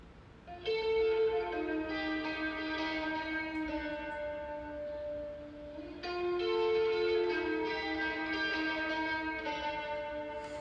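A short guitar part in a song built in BandLab plays as two sustained, ringing phrases with heavy reverb and echo, its bright harmonic notes swelling and fading with no voices.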